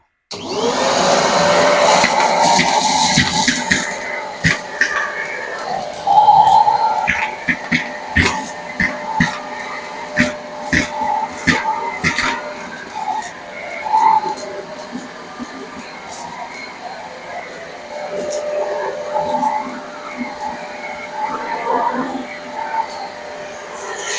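A small Deerma DX115c handheld vacuum cleaner runs with a steady, loud motor whine and scattered clicks and rattles of debris being sucked up, up close, with someone talking over it.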